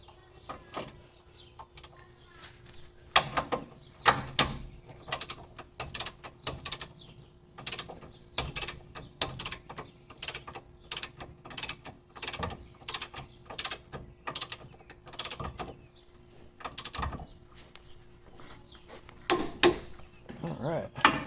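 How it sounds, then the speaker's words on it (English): A torque wrench tightens control arm bolts on an R50 Nissan Pathfinder, sharp ratcheting clicks in short repeated bursts with pauses, close by, with a faint steady hum and occasional quiet voices. "now we're going to torque these down"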